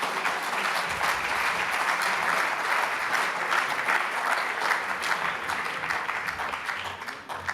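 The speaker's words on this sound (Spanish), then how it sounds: "Así que les pido un aplauso para Michael Ignatieff." An audience at a closing session applauds a speaker, a continuous crowd clapping that holds steady for several seconds, moderately loud with no voices over it.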